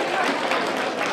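An audience applauds at a village celebration of the poet Vahan Teryan's 130th anniversary in Gandza, a brief, dense burst of crowd clapping heard close and at even loudness.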